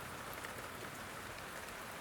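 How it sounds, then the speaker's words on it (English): Steady rain falls outside a calm kitchen, a dense, even hiss of drops that stays constant and soft throughout, with no other sounds. "The rain steady."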